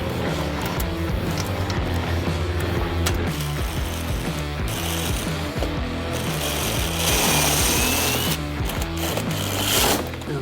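A power drill whirs in repeated bursts, its motor pitch rising and falling as screws are driven into an aluminium railing, with rattling mechanical clicks between runs.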